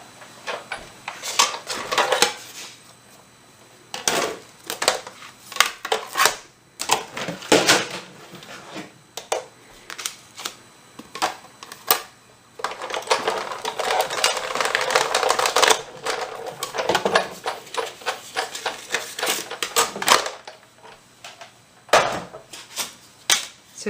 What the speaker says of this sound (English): I'm going to come in with this die, or the folder, and I am going to line this up and then run it through the machine